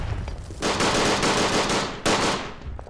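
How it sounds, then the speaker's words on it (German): Sustained machine gun fire in the World War I shooter Verdun, loud and close, a dense rapid burst that breaks briefly and resumes, with no talk over it. "Der hat ein Maschinengewehr."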